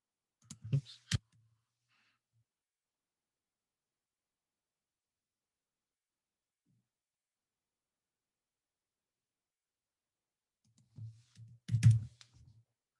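Short bursts of clicking computer-keyboard typing during a math lesson, one brief cluster near the start and a louder cluster near the end, with silence between.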